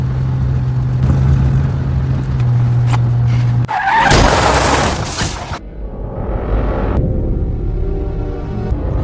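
A violent movie car crash: a car skids with screeching tires and slams loudly into another car, a sharp burst of impact and crunching metal followed by fading debris and rumble, with no talking.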